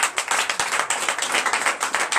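A church congregation claps for Jesus during a night deliverance and prophecy service, with steady, dense clapping and scattered sharper claps throughout.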